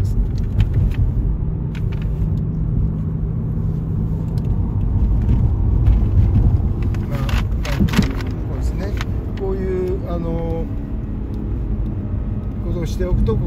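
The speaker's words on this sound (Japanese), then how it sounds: "ヒール&トゥーでブレーキングしながら、ギアを1速落として上がっていくと" Subaru Legacy B4 engine rumbling steadily from inside the car while braking and dropping one gear with a heel-and-toe downshift, someone talking over the continuous drone throughout.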